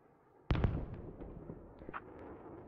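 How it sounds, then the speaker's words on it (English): A mortar shell lands in the military shooter game Squad with a sudden muffled boom, followed by a rumbling tail and a few fainter distant thuds, heard alone. "I thought I heard a mortar land."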